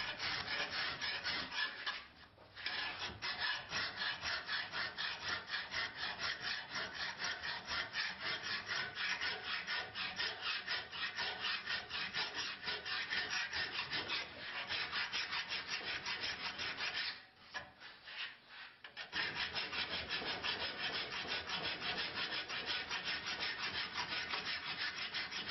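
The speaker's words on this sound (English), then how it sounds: "Now begins the hard work of refining the blade shape with a hand file." Steady, rhythmic rasping of a hand file refining the shape of a steel blade above the shinogi line, close and continuous, with two brief pauses between runs of strokes.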